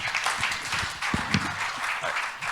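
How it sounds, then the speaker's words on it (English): A room full of people at a breakfast partner meeting applauds a panel, steady dense clapping close by for a couple of seconds. "Round of applause for our first panels."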